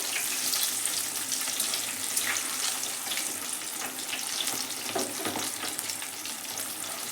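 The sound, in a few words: mirchi bajji (chilli fritters) frying in oil on low flame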